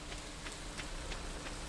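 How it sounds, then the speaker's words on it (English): Rain falls steadily in the Stardew Valley video game, an even hiss of drops without pause throughout the short moment. "Hard to do that when you're walking around in the rain, Pam."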